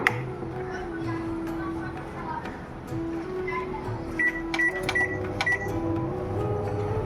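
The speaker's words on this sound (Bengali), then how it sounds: "এটা আমি এখন মাইক্রোওয়েভে ঢুকিয়ে দেবো" A kitchen microwave oven runs with a steady low hum, and a few short electronic beeps come near the end, with soft background voices.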